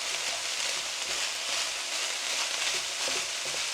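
Pork and vegetables frying in a pan, a steady close hissing sizzle with light crackle and no talking.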